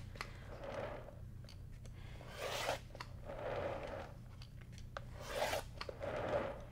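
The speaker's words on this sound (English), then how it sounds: "you can either trim on all four sides or you can put a square ruler right on those lines and trim all the way around" Blade strokes trim a paper-pieced log cabin quilt block along a square ruler's lines, giving soft, close, rasping cuts that repeat about every second or two in a quiet room.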